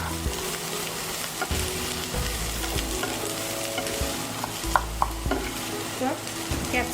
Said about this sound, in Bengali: সেদ্ধ করা সবজিগুলো দিয়ে দিচ্ছি।